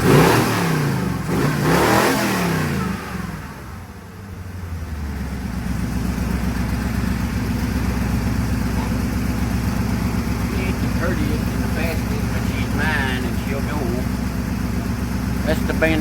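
A 1966 Chevrolet C10 pickup truck engine cranks and fires, then settles into a steady, loud, close idle with a rumbling low tone. Someone talks briefly near the start.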